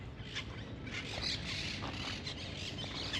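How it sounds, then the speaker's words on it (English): Several birds squawk and chirp at a distance over a steady outdoor background hum in a town in Uruguay, calls scattered irregularly. "And lots of birds. I love birds."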